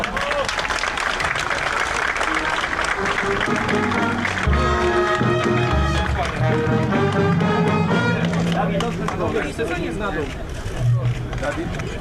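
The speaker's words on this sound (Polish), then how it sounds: "Dawid Murek, wielkie brawa!" A crowd applauds and cheers for volleyball player Dawid Murek at an outdoor star-walk ceremony in Milicz, a dense, steady wash of clapping and voices that stays loud for the whole stretch, with music and crowd chatter mixed in.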